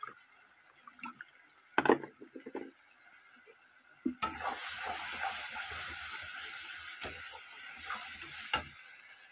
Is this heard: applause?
no